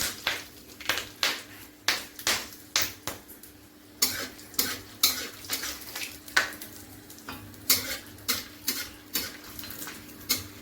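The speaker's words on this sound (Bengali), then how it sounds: "একটু ভাজা ভাজা হবে, গন্ধটা বেরোবে ফোড়নের।" Dry red chillies, bay leaf and whole garam masala fry in hot oil for a tempering, a soft steady sizzle under repeated close scraping and stirring knocks against the pan, with no talking.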